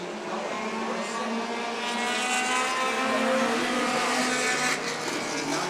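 Stock cars race at Stockton 99 Speedway, a loud, continuous engine roar from several cars with a slowly shifting pitch as the pack passes close by.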